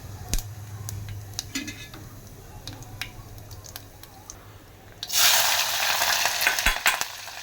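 Mustard and cumin seeds hit hot oil for a Gujarati cluster-bean curry, bursting into a loud, bright sizzle after a few seconds of quiet kitchen clatter and scattered light clicks and taps, then hissing steadily close by.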